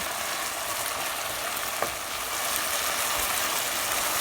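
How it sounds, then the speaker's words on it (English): Steady, dense sizzling of chicken frying in a pan with spicy masala, a continuous crackling hiss with one brief louder pop midway. "After frying it for a minute, we will see that the water has evaporated"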